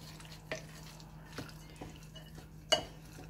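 A pasta sauce with mozzarella and parmesan is mixed by hand. It is quiet, with soft scraping and a few isolated clinks of a spoon against the bowl or pan.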